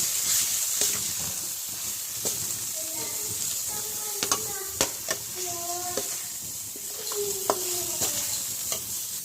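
Brinjal curry masala frying on a low flame in a pan, a steady soft sizzle with repeated scraping and clinking strokes of a stirring spoon against the metal, close and alone without talk.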